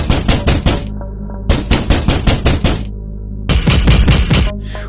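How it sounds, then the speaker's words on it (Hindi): Loud, heavy knocking on a wooden door comes in three rapid bursts of hard thuds, each a fast run of several blows, with short silent gaps between, close and forceful. "अर्जुन का दरवाजा को कोई तेज तेज खटखटाने लगा"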